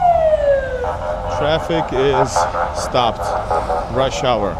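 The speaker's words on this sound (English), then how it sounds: "Russian police cars have a cool sound, right? Cool horn." Russian police car siren on a congested Moscow street in rush hour, a sweeping wail then rapid warbling yelps, close and loud, with someone talking over it.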